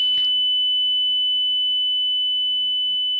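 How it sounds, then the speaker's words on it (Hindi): Buzzer on a Cook's pole climbing apparatus sounds as one steady, unbroken electronic tone that holds for the full few seconds, loud and clear over a faint low hum in a quiet lab. "अब देखिए सिर्फ बजर दबा रहा हूं।"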